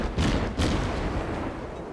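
Naval guns firing in World of Warships, two heavy booming blasts close together followed by a rumbling low decay.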